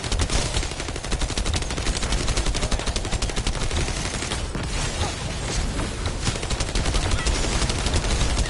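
Dense, continuous gunfire from The First Descendant, rapid shots blending into a loud sustained barrage with steady intensity throughout and no clear voices.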